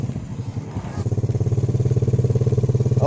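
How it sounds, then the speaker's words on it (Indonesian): Motorcycle with a dual sprocket and clutch setup pulling away on light throttle, a close, steady pulsing engine chug that firms up after a second, with no talk. "Gas sedikit motornya langsung jalan."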